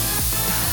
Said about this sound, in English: Now here's me spraying after the paint was actually mixed